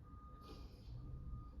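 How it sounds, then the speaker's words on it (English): Faint reversing beeps from a moving truck outside, a steady electronic tone held beneath a low, muffled background rumble. "Sorry for the moving truck sounds outside"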